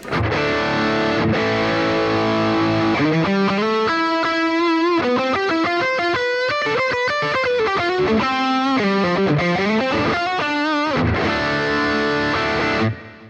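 A heavily distorted high-gain electric guitar through a Boss GX-100 plays sustained chords and a riff, thick and loud throughout, with a wide plate-reverb wash trailing each note.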